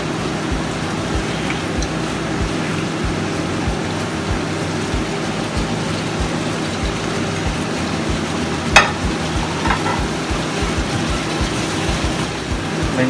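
Meat sizzles in a pan while it is stirred: a loud, continuous frying hiss with soft scraping, and one sharp metallic clank partway through.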